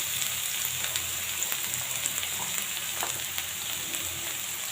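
Onions fry in hot oil until brown, giving an even, steady sizzle with small crackles and pops throughout.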